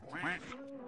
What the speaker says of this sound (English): So now we do have a quack.